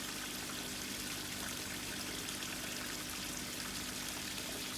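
Water pours steadily into a barrel filter while it is topped back up after a large water change, a continuous close trickling and splashing with no voices.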